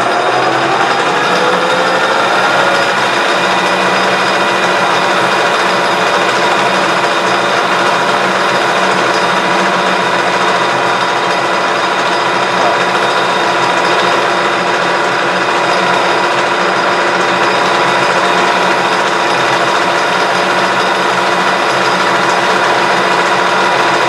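Metal lathe facing and center drilling a gearbox shaft, a loud continuous whir and hum of the spindle and cutting, steady and close throughout with no talk.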